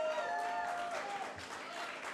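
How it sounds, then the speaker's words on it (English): Fight crowd at an MMA event applauding both fighters after the decision, a soft, distant wash of clapping that holds steady for a couple of seconds. "Ladies and gentlemen, big round of applause for both of these fighters"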